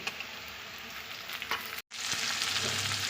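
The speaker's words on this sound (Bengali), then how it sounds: "পেঁয়াজ আর টমেটো ভালো করে ভাজা হয়ে গেছে" Onion and tomato sizzle and crackle in a hot pan, with a brief stirring scrape and a momentary cut in the sound.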